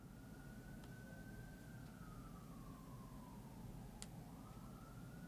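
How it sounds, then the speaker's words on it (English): Fire truck sirens pass outside, a faint, distant wail gliding slowly up and down over a low steady hum, with a couple of brief faint clicks and no talk. "lot of fire trucks going around."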